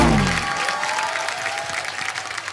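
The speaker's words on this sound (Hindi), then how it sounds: "जोरदार तालियां" A studio audience at a TV comedy show bursts into applause, a steady wash of clapping that starts strong and carries on evenly, with a few cheers mixed in.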